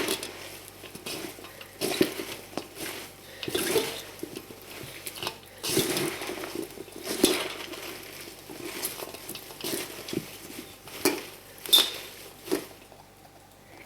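Hands tossing washed salad ingredients together in a bowl, giving a run of wet, squishy rustles and occasional light knocks against the bowl at an uneven pace, fairly close.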